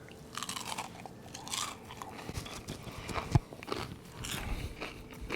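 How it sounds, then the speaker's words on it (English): Close, loud crunching bites and chewing of crunchy air-fried onion rings made in a Ninja Foodi XL grill, a few sharp crackling bites followed by chewing, with no talk. "I had to demonstrate the crunchy factor of these onion rings"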